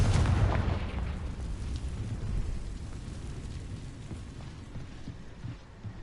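Confringo blasting-spell explosions in the Hogwarts Legacy video game: a loud booming burst at the start, then a long rumbling roar that slowly fades, with no voices over it.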